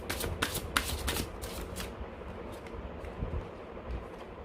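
Tarot cards are shuffled by hand up close: several quick riffling bursts in the first two seconds, then softer, sparser card handling with no talking.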